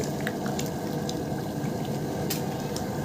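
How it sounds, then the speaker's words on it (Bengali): A pan of paneer butter masala curry with capsicum boils away at a steady bubbling simmer, close and continuous, with small pops and sputters rising through the liquid. "এখন আমরা কিছুক্ষণ ফুটুক"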